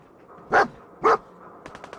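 A dog in the video game Fallout 4 barks twice, loud and close, in quick succession. A few faint, rapid clicks follow.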